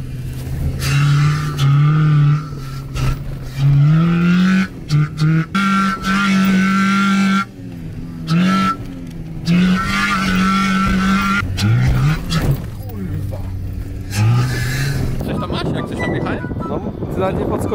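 Volkswagen Polo driven hard, engine revving up and down in repeated bursts with tyres squealing and skidding, close and loud, with wind buffeting and people talking over it at times.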